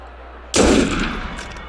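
A single loud gunshot from the player's gun in Assassin's Creed Unity bursts out sharply after a quiet moment, then a reverberant tail decays over the following second.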